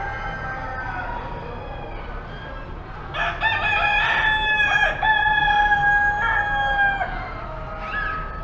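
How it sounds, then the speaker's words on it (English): Roosters crow at a Kansas State Fair poultry show. Loud, close, overlapping crows stretch over several seconds, rising above a constant noisy barn background. "These are roosters, yes."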